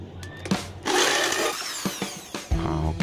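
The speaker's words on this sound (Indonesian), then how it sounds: "Oke, saya bor lahan ini bosku." Power drill boring a hole at a marked spot on PVC pipe for a small 2-inch elbow fitting in a bathroom septic line job, with short bursts of whining motor and drilling close by, no talk.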